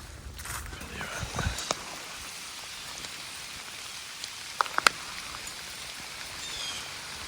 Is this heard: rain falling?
yes